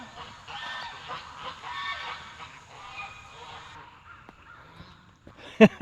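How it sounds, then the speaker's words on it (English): Geese honk in a noisy overlapping chorus for several seconds, moderately near, then fade; a couple of sharp loud knocks follow at the end. "Oh, here come the geese."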